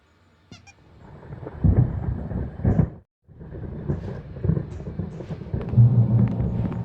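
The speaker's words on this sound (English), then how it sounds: "There's a storm coming. Oh, what a storm." Thunderstorm in the video game Alan Wake, deep rolling thunder rumbles that swell and fade, broken by a brief silence before another long low rumble builds, loud and close.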